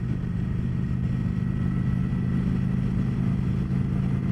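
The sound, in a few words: motorcycle cruising at 40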